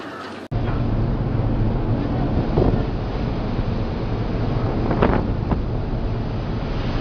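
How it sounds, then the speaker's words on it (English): A Force 12 storm wind roars on board the ship MS Expedition between the Antarctic Peninsula and South America, a loud, continuous buffeting rush with mixed sea noise that starts abruptly and never lets up. "On board the ship MS Expedition, Force 12 on the Beaufort scale, from the Antarctic Peninsula to South America"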